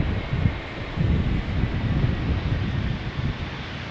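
Wind gusts buffet a microphone outdoors at Schiphol Airport, a steady broadband roar with uneven low thumps throughout.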